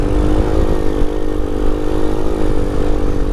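A Grom clone Vader 125cc motorcycle with modified gearing and carburetor revs hard in second gear for a wheelie, a loud steady engine drone held throughout at close range with no voices.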